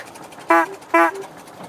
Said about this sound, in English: Let's do a celebratory honk.